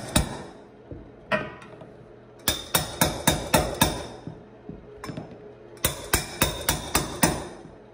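A hammer strikes hard at old, half-inch-thick caulk sealing a urinal to the wall, knocking it loose in sharp, close blows: a few scattered hits, then two quick bursts of five or six rapid strikes with short pauses between.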